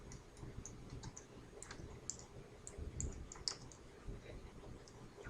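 A macro description typed into Excel on a computer keyboard, with quick, light, close key clicks in an uneven run and no voices.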